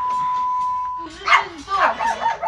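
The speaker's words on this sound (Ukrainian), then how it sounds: "Поряд у господарській будівлі чути скавчання." Dogs whimpering inside a farm outbuilding, a few high, wavering whines heard close and moderately loud after a steady tone fades out.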